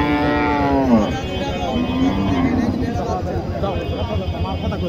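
Sahiwal cow lowing at a busy cattle market in Naogaon, a drawn-out moo near the start, with people talking around it and crowd noise throughout.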